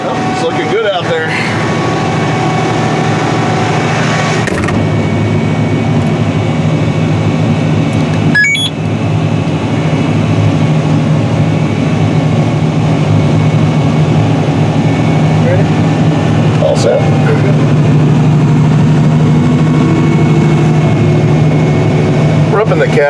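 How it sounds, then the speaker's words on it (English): A steady, loud engine drone from inside the cab of a Challenger 1038 tractor pulling a corn planter, low and constant throughout, with a person talking over it. "We're up in the cab of a Challenger 1038 tractor"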